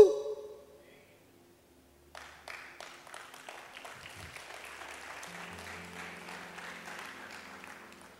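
Church congregation clapping after a sermon, starting after a short pause and building into sustained, moderately loud applause with some murmuring and a few voices under it.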